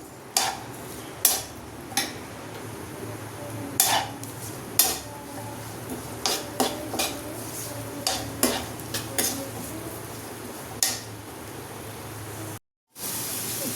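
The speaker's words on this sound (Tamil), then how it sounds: "ஆனியன் நல்லா பொன்னிறமாக வர்ற வரைக்கும் வறுத்து விட்டுக்கலாம்." Onions and curry leaves frying in a pan for Chettinad egg curry, a steady sizzle under repeated scrapes and knocks of a spoon stirring against the metal, with a brief cut near the end.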